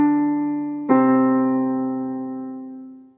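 Two keyboard notes form a descending whole step, D down to C; the first tone sustains, then the slightly lower note is struck and rings out slowly to silence.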